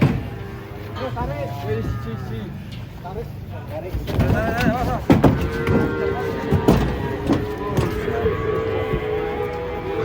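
Cattle being unloaded from a truck low over a busy background, with a few moo-like calls and bursts of movement amid murmuring voices and occasional clatter.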